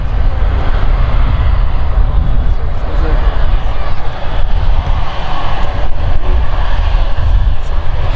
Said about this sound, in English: Airbus A320-200neo belonging to British Airways. That's operating the shuttle flight back down to London Heathrow.